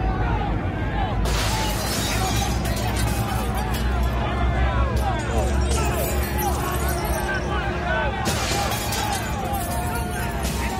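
Many panes of glass shattering amid a crowd and street commotion, a dense, continuous tinkling crash of breaking glass mixed with babbling voices and rumble throughout.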